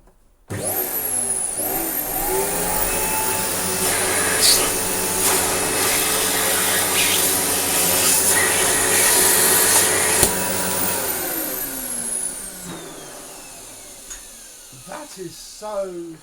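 A Dirt Devil Royal Eclipse Plus 6750UKA vacuum cleaner starts up loud and close, whines steadily with a high motor tone, then winds down and stops, with a few clicks afterward.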